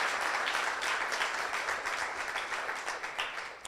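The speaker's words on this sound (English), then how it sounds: "Please give a round of applause to Kristen." Steady audience applause at a sustainable systems lecture, a dense wash of many hands clapping for Kristen, continuous for several seconds and tapering slightly toward the end.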